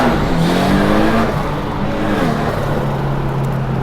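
A twin-turbo Datsun 240Z accelerates hard, its engine note climbing through a gear, dropping at a shift and pulling again, loud and close as if heard from inside the car.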